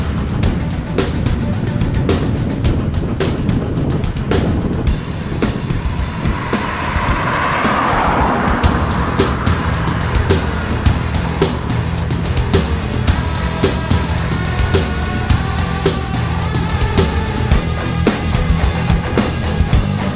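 An ANS intercity bus from Jakarta, nicknamed AC Milan, arrives at Batang Pamo in Solok. Its engine rumbles loudly and steadily throughout, with dense broadband road noise and traffic, and no talking.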